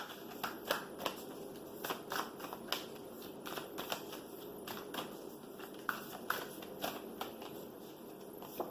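Tarot cards are shuffled at close range during a reading, with a steady run of soft riffling and crisp flicks that peak at irregular moments. No one speaks.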